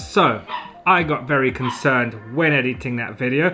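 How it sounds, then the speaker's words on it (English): A dog barks in a series of loud, repeated yaps and yips, close by, running throughout while someone speaks over them. "pardon the barking in the background there"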